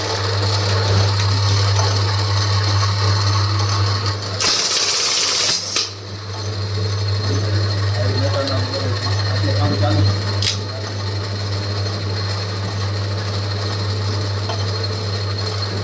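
A buttonhole (kaj) sewing machine under repair runs with a loud, steady mechanical hum and a rapid ticking ratchet rhythm, briefly interrupted by a harsh burst, while someone talks over it.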